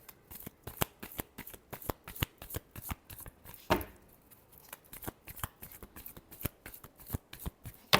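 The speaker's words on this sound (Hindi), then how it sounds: "Last shuffle." Tarot cards being shuffled by hand in a steady run of crisp riffling flicks, close and fairly loud, with one longer riffle burst midway and no talking.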